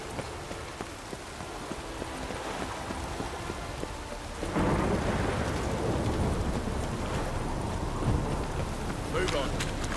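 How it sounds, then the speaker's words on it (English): Rain falls in The Witcher 3 on the isles of Skellige. A soft patter gives way midway to a louder, denser downpour with low rumbling, and a voice speaks faintly under it. "Rain doesn't bother me."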